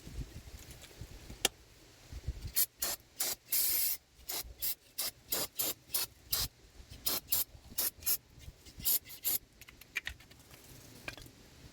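Old grease is scrubbed and sprayed off a 1991 Camaro brake spindle during a brake service, with quick bursts of rasping, spraying noise in a choppy rhythm between short quiet gaps, close and fairly loud.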